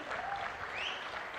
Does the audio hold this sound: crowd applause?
yes